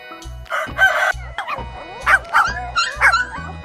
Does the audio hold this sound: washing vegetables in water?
no